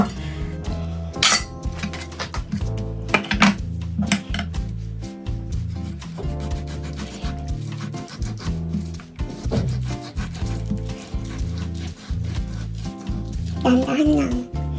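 A knife slicing pork shoulder on a cutting board for homemade tocino, producing irregular close clinks and knocks of the blade against the board while someone talks throughout.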